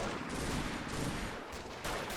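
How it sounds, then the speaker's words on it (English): Dense gunfire from a Normandy bocage battle in a WWII strategy game, with a continuous loud roar of overlapping shots and bursts that barely lets up for two seconds. "you should be enjoying all that wonderful gunfire"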